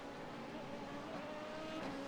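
An LMP2 prototype race car engine in an IMSA racing video game hums steadily at a quiet, even level throughout, with no talk over it.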